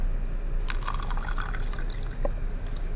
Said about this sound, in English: I'm going to put some water in it.